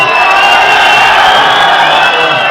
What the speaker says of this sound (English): There's a good crowd here already.